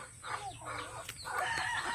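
Texas breed chickens clucking together at close range, a busy, overlapping flock of clucks and calls with no talk over them.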